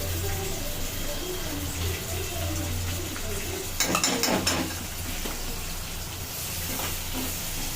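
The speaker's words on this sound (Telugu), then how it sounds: "ఆనియన్స్ వేసుకొని కలుపుకోవాలి" Onions and chillies fry in a pan at home while being stirred, a steady low sizzle with a brief louder burst of scraping and clatter midway, no talking.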